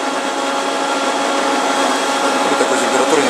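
A smokehouse chamber for making Sakhalin-style sausage runs with a steady, loud mechanical whir like a fan or blower motor, an even drone that holds throughout without pauses.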